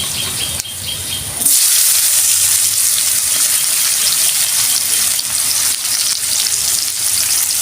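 Sliced onion with nigella seeds, whole coriander and spices hits hot oil and sizzles loudly, a dense, steady frying hiss that jumps up after a quieter start and keeps going without a break.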